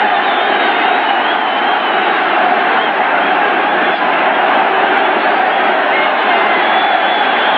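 A football stadium crowd roars in a steady, dense wash of cheering during a 1981-82 New York Jets playoff game against Buffalo, loud and continuous without pause.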